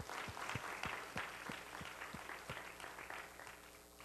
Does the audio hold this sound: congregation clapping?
yes